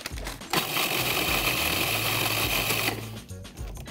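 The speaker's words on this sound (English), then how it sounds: "Now I wanna grind these down into breadcrumbs" A food processor grinds tortilla chips into crumbs for meatballs, giving a loud, steady whirring roar for about two seconds that then cuts off and winds down.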